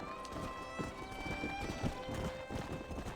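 Horse hooves galloping in Red Dead Redemption, a steady clip-clop rhythm of hoofbeats with a horse whinnying, under game music and faint talk.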